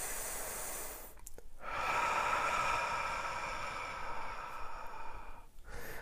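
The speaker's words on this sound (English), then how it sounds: "And we're going to take a deep breath together." Deep breath taken during guided meditation, a long, slow, breathy inhale and exhale heard close and steady, with a brief pause between, no talk.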